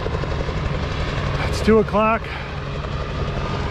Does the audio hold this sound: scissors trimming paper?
no